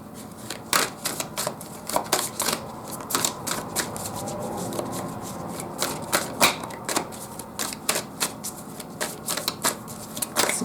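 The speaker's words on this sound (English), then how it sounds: "put three more cards out here" Tarot cards are handled and laid out on a table in quick, crisp slaps and shuffling flicks, close and fairly loud, with no talk.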